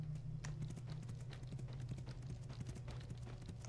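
Hooves clip-clop in a quick, steady gait as a horse is ridden in the video game Ylands, quiet and even against a low background hum.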